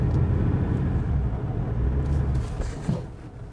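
Ford Ranger 3.2 Wildtrak pickup running off-road, a steady low engine rumble at moderate distance that eases slightly toward the end, with a short thump near the close.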